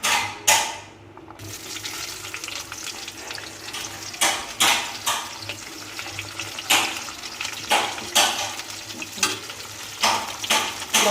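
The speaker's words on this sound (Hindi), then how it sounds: "अब हम डालेंगे इसमें प्याज" Onions fry in a pan of oil with whole garam masala for mutton curry, giving a steady sizzle with repeated scraping stirs of a spoon, and a brief splash of water at the start.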